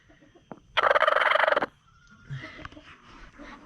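Farm poultry gobble in a loud, rapid rattling burst of about a second, followed by quieter clucks and scattered low bird sounds.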